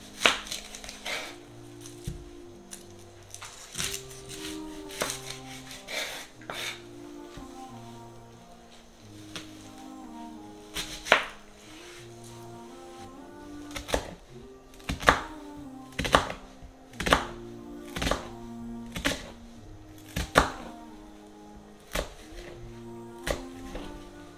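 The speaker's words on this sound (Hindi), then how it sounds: "अब हम अपने वेजिटेबल्स काट लेंगे।" A knife chops onion and vegetables on a board, with sharp, close, irregular thunks that speed into quick runs and then pause, under soft background music.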